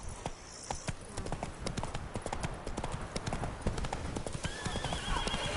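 Roach, the horse in The Witcher 3: Wild Hunt's Blood and Wine expansion, gallops with rapid, close hoofbeats and neighs, set against game ambience.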